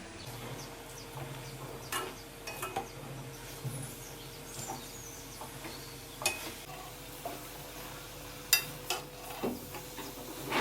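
Greens mixed with onion, salt and turmeric are stirred in a pan, giving soft scraping and stirring sounds with scattered knocks over a faint, steady sizzle.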